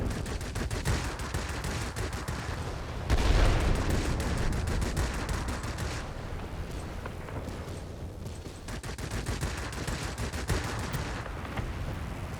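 Rapid aircraft gunfire strafing ground targets in the World of Warplanes flight game, flown in a Typhoon fighter, with dense continuous bursts and a heavier blast near three seconds, loud throughout.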